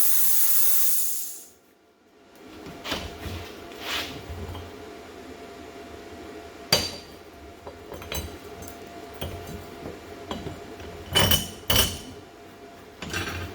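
A cheap pilot arc plasma cutter cutting metal gives a loud, steady hiss for about two seconds that cuts off abruptly, followed by quieter scattered clanks and taps nearby.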